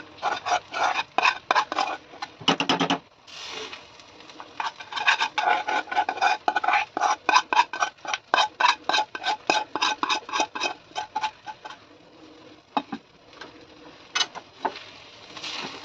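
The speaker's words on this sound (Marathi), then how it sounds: "आता सारण पूर्णपणे भातामध्ये मिक्स करून घ्या म्हणजे सारण आणि भात आपला एकजीव झाला पाहिजे" A spoon stirs coconut filling into cooked rice in a pot for narali bhat, making a rapid series of close, repeated scraping and rasping strokes against the pot, pausing briefly before resuming, with no speech.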